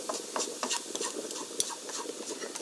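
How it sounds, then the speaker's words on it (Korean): Onion and bacon stir-fried in a pan, a soft continuous sizzle with scraping and stirring strokes from a utensil, close and steady, with one sharper clack partway through and no talking. "양파, 베이컨은 예열로 볶아주시고요"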